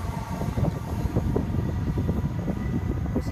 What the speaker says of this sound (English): strange moving plane that seems to have missed the runway for some strange reason